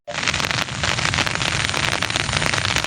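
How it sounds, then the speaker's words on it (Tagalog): Steady rain pours with a dense, hissing patter during a typhoon, loud and continuous from start to finish with no voices. "Umuulan pa rin."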